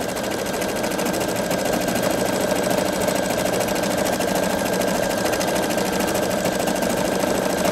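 A Pfaff Creative 3.0 sewing machine stitches out a house-and-tree border design with a steady, fast, close mechanical whir and ticking that runs unbroken throughout.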